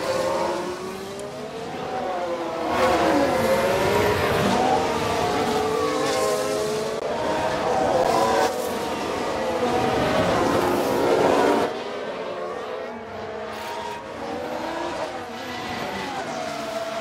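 In the F1 Manager 22 racing game, Formula 1 cars roar past with rising and falling engine pitch, including Max Verstappen's car locking a wheel, under steady broadcast commentary.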